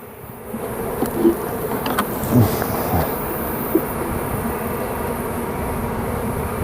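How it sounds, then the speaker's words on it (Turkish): Honeybees entering a hive buzz densely and continuously close by, a busy swarm hum with a few brief louder passes. "Dışarıda kalan arılar da giriyor içeri"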